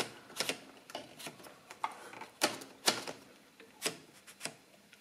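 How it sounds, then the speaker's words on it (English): A Burroughs Portable adding machine with a typewriter-like carriage prints and adds an entered number when its lever is pulled, giving a quick run of sharp mechanical clacks and ratchets, close and alone. "if you enter a number and pull the lever, the number gets printed and added to the register inside."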